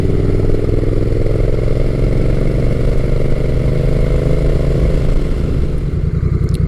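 Honda Rebel 1100 T DCT motorcycle engine running steadily up close, a loud continuous mid-pitched rumble with a slight rise in revs and no one talking.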